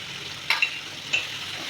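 Ginger garlic paste spoon-added to onions and tomatoes sizzles in a pan under a constant frying hiss, with two or three quick scraping stirs of a spoon standing out close by.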